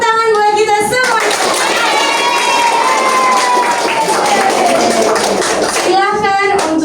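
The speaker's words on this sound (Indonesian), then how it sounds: "tepuk tangan buat kita semuanya" Classroom full of students and children applauding together, a dense burst of clapping with some cheering and kids' voices, loud and close, with speech at the start and end.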